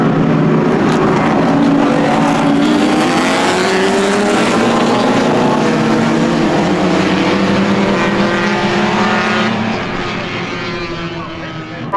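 Race cars, including an E30 BMW, pulling away for lap one at Atlantic Motorsports Park, a loud continuous roar of several engines layered over each other and slowly easing off toward the end.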